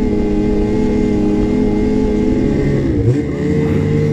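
A 2022 Ski-Doo Renegade X-RS 850 snowmobile engine roars loudly and steadily in deep powder snow, with a brief dip and recovery in pitch near the end, close up and with no talk.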